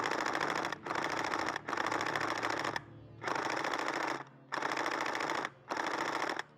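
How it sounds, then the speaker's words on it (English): A TM AK74U airsoft electric gun fires fully automatic outdoors in cold weather, five rapid mechanical bursts of about a second each, separated by short pauses. "that's something you can really only do with an AEG, go fully automatic"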